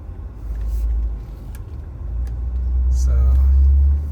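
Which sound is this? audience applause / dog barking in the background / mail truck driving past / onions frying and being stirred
mail truck driving past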